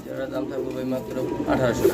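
Domestic pigeons, a laying and breeding pair offered for sale, coo in a low, steady, throaty rumble that carries through the whole stretch. A voice talks over the birds throughout.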